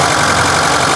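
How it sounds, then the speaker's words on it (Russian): A Lada Zhiguli engine, its cooling system filled with freon instead of antifreeze, idles loudly and close by, giving a dense, steady mechanical churn for about a second. "Это жигулевский мотор."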